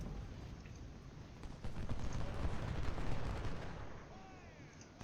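Artillery fire in the Civil War strategy game Ultimate General, set at Gettysburg, rolls on as a low, continuous rumble of distant cannon and battle noise that swells midway and then fades slightly.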